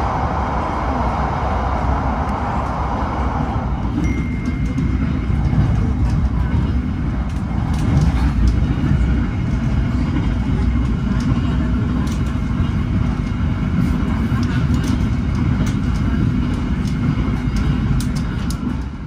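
Inside a moving Taksaka passenger train on the Yogyakarta-Jakarta run, a steady, loud rumble of wheels and carriage noise holds evenly throughout, with no break or change.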